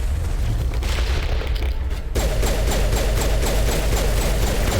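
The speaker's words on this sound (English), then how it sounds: "Fire in the hole!" A grenade blast in the Mass Effect video game, a heavy boom at the start that dies away, then a dense rumbling wash of combat noise and crackle.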